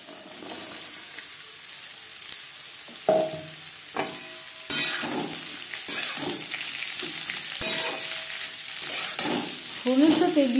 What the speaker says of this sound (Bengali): ফোড়নের সাথে বিট গাজর বেশ ভালো করে মিক্স করে দেব।